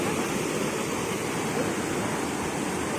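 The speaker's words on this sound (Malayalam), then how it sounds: "ഇവിടെയും വെള്ളച്ചാട്ടം ഉണ്ട്" A waterfall at Oorappankettu in Peechi, Thrissur, gives a steady, full-bodied rushing roar, close and constant, with no pauses.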